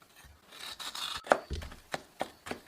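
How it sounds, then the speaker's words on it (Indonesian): A spoon scrapes frozen coconut milk ice in a container, making a series of close, dry rasping strokes in an uneven rhythm with brief sharp scuffs. "Serut pakai sendok hingga ambyar."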